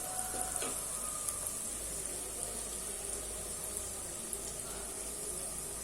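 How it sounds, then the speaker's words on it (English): Onions frying in a pot for chicken curry make a steady, faint sizzle, low and constant with no talking. "Let it fry so that it will turn into golden brown color onions"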